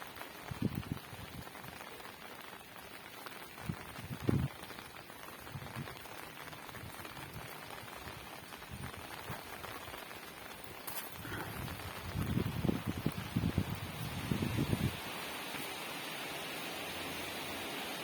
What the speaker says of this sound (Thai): ฝนตกแต่เบาๆนะครับ